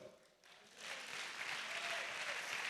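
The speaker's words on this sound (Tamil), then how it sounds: "நல்லா கைத்தட்டுங்க." A church congregation at a Sunday service breaks into clapping that swells within the first second into a full, sustained round of applause from many hands.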